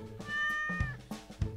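Cat meowing in the video game Minecraft: a single drawn-out, clear meow with a rising then falling tone, close and distinct, with a couple of soft thumps after it.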